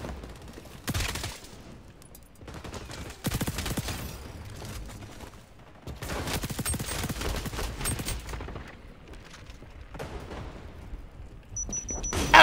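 Rapid bursts of automatic gunfire from the shooter game xDefiant come in several long, dense volleys separated by short pauses, loud and close, with a sharp final shot at the end.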